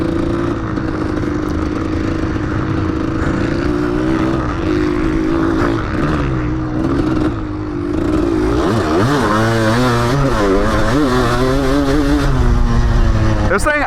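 A 1994 Kawasaki KDX 200 two-stroke dirt bike revs loudly and steadily up close, its engine pitch rising and falling in repeated sweeps toward the end as the throttle is blipped. It is heard alone, with no talk.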